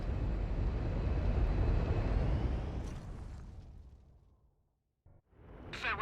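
A Valkyrie gunship from Warhammer 40k: Space Marine roars as a broad jet-engine rush, loud at first, then fading away into near silence before a new swell of noise returns.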